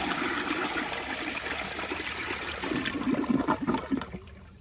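A 2014 Sterling Windham toilet flushes with a steady rushing swirl of water that surges near the end and then drains off quickly, fairly quiet and heard alone.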